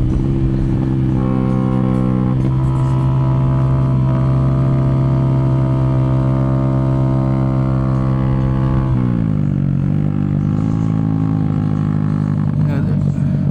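Yamaha Aerox scooter on the Carmona Racing Circuit, its engine note held steady then dropping in pitch as it slows under engine braking, a continuous loud drone with a brief rise near the end, a voice talking over it.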